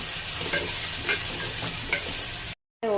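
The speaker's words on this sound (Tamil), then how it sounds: "இப்போ நல்லா வதக்கணும்." Onions sizzle steadily in a pan with salt and asafoetida for poori masala, and a spoon scrapes through them about four times before a short silent gap.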